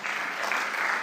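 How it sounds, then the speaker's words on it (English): An audience at a teaching conference in Kuwait applauding a guest of honor, a brief, dense wash of many hands clapping at once, steady and moderately loud, with no speech on top. "Please join me in giving him a warm round of applause"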